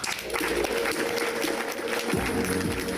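Audience applause at a French evening gathering honouring Jean-Marie, a steady wash of clapping throughout, fairly close and full, with a low voice briefly rising near the end.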